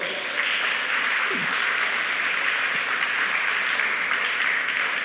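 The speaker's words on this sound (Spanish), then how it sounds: "Yo que tú le das un fuerte aplauso a Dios" A church congregation applauding during a Spanish-language sermon, a steady wash of many clapping hands that stays even and sustained from start to finish, with a faint voice briefly audible.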